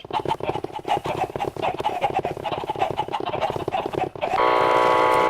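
Chickens being slaughtered in the Minecraft Tekkit modpack, a rapid busy string of clucks and squawks over game noise, ending in a steady dense mechanical hum.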